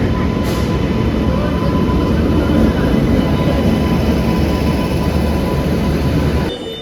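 A train passes through a station on a Mumbai suburban line, with a loud, steady rumble that holds for several seconds and drops off abruptly near the end.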